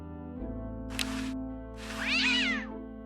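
An angry cartoon cat in the point-and-click game Day of the Tentacle lets out a brief meow followed by a louder, stretched, rising-and-falling yowl over looping background music.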